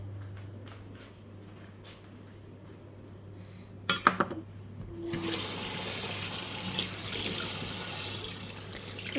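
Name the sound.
tap water running over blanched spinach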